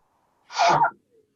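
A single sharp sneeze bursts out close by, brief and forceful, with a faint breath just after in otherwise quiet surroundings.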